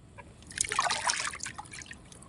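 Water pours and trickles into a container of strained homemade plant fertilizer tea, a soft, steady splashing that swells and then eases off, with no voices.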